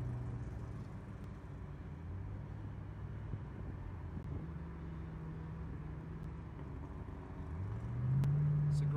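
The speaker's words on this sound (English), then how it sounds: "we're cruising in a convertible 2007 Shelby Hertz here" Convertible 2007 Shelby Hertz cruising on a race track, a low steady engine rumble with wind noise, rising slightly near the end as the engine works harder.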